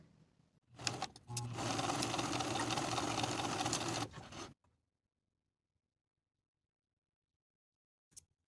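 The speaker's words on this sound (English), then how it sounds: "Now I'll sew each dart from the top to the point" A sewing machine stitches skirt darts in a steady, continuous mechanical whir lasting several seconds, close and fairly loud, then stops abruptly and leaves near silence with only a brief faint click at the end.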